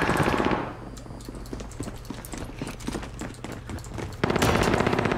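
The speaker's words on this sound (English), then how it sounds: "I'm taking fire." Rapid bursts of gunfire in a Rebirth Duos battle royale match, a dense automatic rattle through the middle with louder shots at the start and end, with faint voices underneath.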